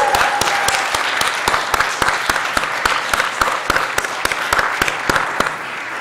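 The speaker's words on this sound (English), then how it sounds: "Let's give a round of applause to kick things off this morning." Steady applause from a crowd greets the NASDAQ opening bell ceremony on a morning stock-exchange stage, a dense, sustained clapping that carries evenly for several seconds without speech.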